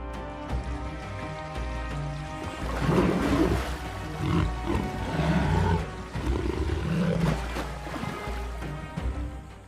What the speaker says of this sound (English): Roars blend with the sound of rushing water rolling across the reserve like distant thunder.